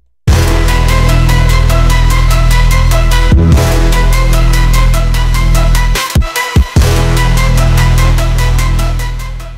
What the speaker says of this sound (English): This is my own remix. So I'm going to play it,